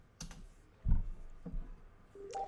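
A few scattered keystrokes on a computer keyboard, close and fairly soft, with short pauses between the clicks in a quiet room.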